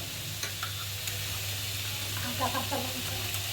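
Poppy seed paste and ginger paste go into a hot pan with a steady, close frying sizzle and soft hiss. A few faint stirring scrapes sound during paneer cooking.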